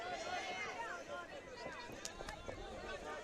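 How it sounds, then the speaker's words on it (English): Crowd at a live fight night calling out and shouting encouragement for a fighter in the final round, a steady din of overlapping voices with commentary talk running over it. "The crowd shouting for Justin to get in there."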